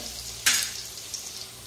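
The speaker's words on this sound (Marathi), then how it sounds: "लसूण टाकून परतून घ्यायचं आहे." Garlic hits hot oil in a kadhai with a sudden sharp sizzle that flares up and settles into a steady soft frying hiss, close and brief.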